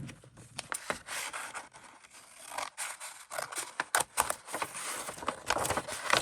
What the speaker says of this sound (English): So I'm just gonna get out my bigger scissors for this one.